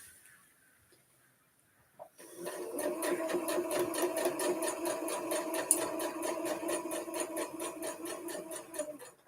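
A sewing machine stitches a border onto a Halloween square table topper, starting after a quiet pause and then running steadily with a fast, even mechanical rhythm close by.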